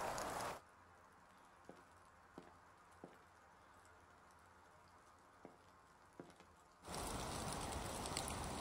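Steady rain falls in a video game, a soft constant patter with a few faint ticks, bracketed by louder bursts at the start and end.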